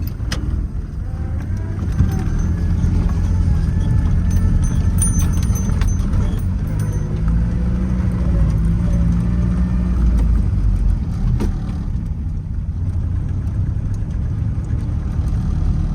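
A Citroën Traction Avant Light 15 engine pulls away in first gear, a low rumbling engine note rising and holding steady close by, with a few faint mechanical clicks and no talk.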